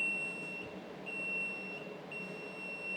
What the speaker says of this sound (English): I move off by one click so it stops beeping at me